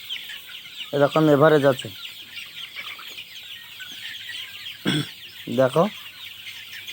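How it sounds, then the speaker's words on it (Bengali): Domestic hens at a duck farm in Murshidabad cluck in short, loud bursts close by, a longer call then two briefer ones, while someone speaks over the low background. "আমার ঘরের মুরগি।"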